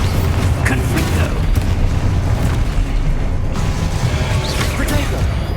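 Confringo fire spells in Hogwarts Legacy burst into loud, booming explosions layered over a continuous roar of game combat, with a voice calling out spell names at times.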